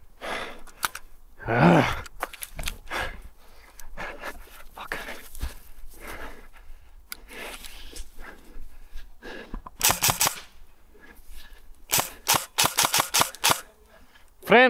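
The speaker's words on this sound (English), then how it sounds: "someone's shooting at me again" Airsoft guns fire during outdoor gameplay in sharp, sporadic cracks, some in quick bursts near the end, with a player's breathing and scattered speech in between.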